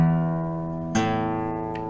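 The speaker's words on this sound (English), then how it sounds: "string number 6 and 5 produce low frequency sounds like this" Two low bass strings of a guitar, the sixth and fifth, plucked one after another, each ringing with a full sustained tone, close and clean with the second pluck entering just under a second in.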